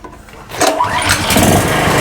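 A Raptor 3800-watt 4-stroke generator engine pull-started after a brief quiet moment, catching abruptly and settling into a loud, close, steady running drone.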